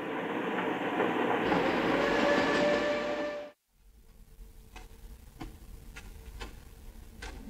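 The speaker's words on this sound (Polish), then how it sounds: "Pociąg przenosi ludzi i rzeczy do krainy zapomnienia." A train rolls along the rails with a steady loud rumble that cuts off abruptly, followed by quieter, regularly spaced clicks of wheels over rail joints.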